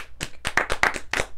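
A burst of loud, close hand claps, about eight sharp smacks in an uneven rhythm during a Sonic Adventure 2 let's-play session, with no speech over them.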